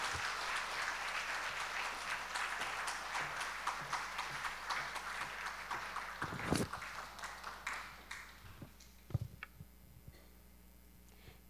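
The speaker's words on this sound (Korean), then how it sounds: "우리 나오실 때 우리 크게 박수로 환영하고 또 축복하며 설교 듣겠습니다" A church congregation at a Wednesday service applauds to welcome the preacher, a sustained crowd of clapping that thins out toward the end into scattered claps and small noises.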